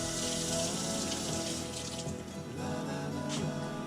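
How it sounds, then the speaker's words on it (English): Tap water runs steadily into a sink while hands are washed under it, a continuous close splashing rush with slight shifts in the flow and no talking. "Let me get my hands washed up."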